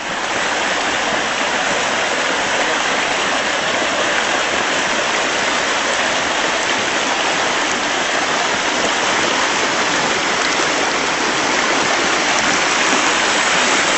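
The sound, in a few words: waterfall flowing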